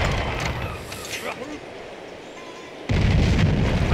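Artillery opens fire in Civilization 5 with a sudden heavy boom that cuts in sharply after a quieter stretch of game ambience and lingers as a dense rumble to the end.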